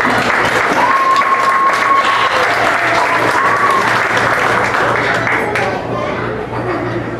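A theatre audience applauds singers after a Broadway golden-era number, loud continuous clapping close by with light crowd murmur, fading slightly toward the end.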